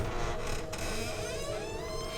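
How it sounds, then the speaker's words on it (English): A door slowly swings open in a strange laboratory, giving off a drawn-out, wavering creak that sits over a hum of mechanical background noise. "The doctor opened another door."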